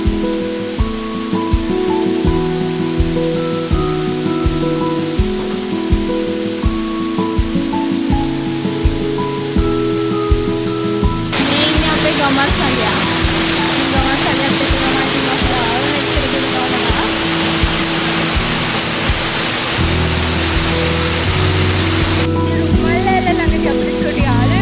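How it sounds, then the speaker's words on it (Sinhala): Rukmal waterfall in Sri Lanka, about 20 metres high, rushes in a steady broadband roar, heard at first beneath louder music and then alone and strong close by. "ඉතින් මේ තමා රුක්මල් ඇල්ල"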